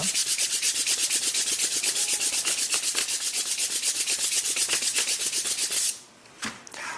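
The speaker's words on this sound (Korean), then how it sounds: "얘를 이용을 해서 사포질을 쫙하면" Steady, rhythmic scraping of sandpaper across wood in quick back-and-forth strokes, close and continuous, stopping abruptly near the end.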